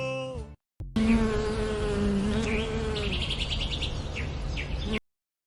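Bees from a rural farming community hum in a steady, close buzz that runs for several seconds, with a few birds chirping faintly behind it.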